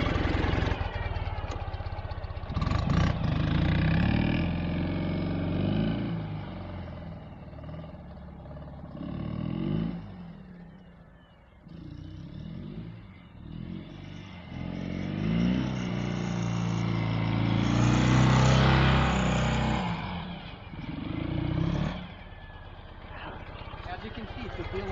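A 2013 Ural Gear Up sidecar motorcycle in two-wheel drive rumbles steadily at close range, its engine note rising and falling as it drives, with a voice talking over much of it.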